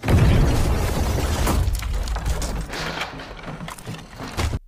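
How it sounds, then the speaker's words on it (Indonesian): A bomb blast in an action film erupts at once in a loud, low rumbling boom with debris crackle, decaying over several seconds into scattered clatter and a final thud. "bom tadi meledak hingga tubuh Barno tercabik ledakan"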